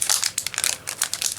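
A Magic: The Gathering Battle for Zendikar booster pack's foil wrapper crinkles and tears open, a quick burst of close, rapid crackling rustles.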